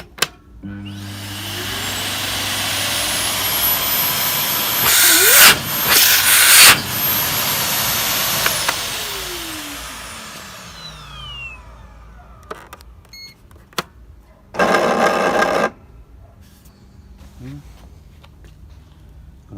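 A Philips FC9222 vacuum cleaner motor whines and roars steadily for several seconds, then winds down, followed by clunks and a brief burst of noise.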